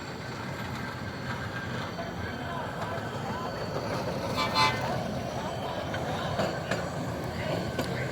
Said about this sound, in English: They honked at me.